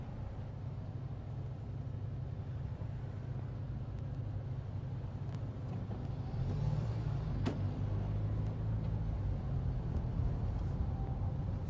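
A car driving along King's Road in London in 1994, heard from inside as a steady low engine drone and road hum that grows slightly louder and heavier partway through, with no talking.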